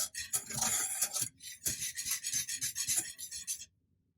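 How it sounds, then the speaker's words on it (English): A whisk stirs salted caramel sauce in a pan just off the heat, quick scratchy metallic scraping strokes in short bursts with a brief pause, ending in silence. "give it one last whisk."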